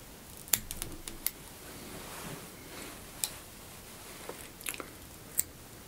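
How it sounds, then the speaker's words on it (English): Scissors trimming fly-tying material on a Parakeet fly pattern: a few faint, sharp snips scattered irregularly across the moment, close and quiet with no speech. "You want to trim this back out of the way too."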